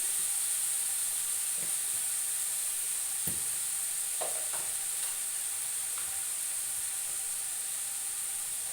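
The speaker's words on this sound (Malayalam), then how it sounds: "1 സ്പൂൺ ഉപ്പിട്ടിട്ട് ശരിക്കും ഒന്ന് ഫ്രൈ ആവാൻ വേണ്ടി വെക്കാം." Mushroom curry fries in a pan with salt added, giving a continuous loud sizzle and hiss with a few soft stirring knocks, close and steady throughout, with no talk.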